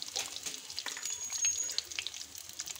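Eggs frying one by one in hot oil for a Bengali egg curry, giving a steady crackling, watery sizzle with scattered pops, close and moderately loud with no talk.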